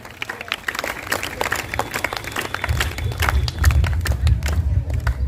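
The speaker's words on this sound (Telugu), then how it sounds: "గట్టిగా చప్పట్లు కొడదాం అందరం కూడా." A church congregation at a feast-day Mass clapping together, a burst of many hands that begins scattered and swells into loud sustained applause in a large reverberant space.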